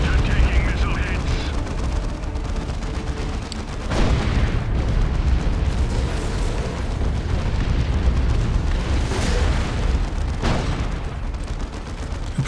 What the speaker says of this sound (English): Predator taking missile hits.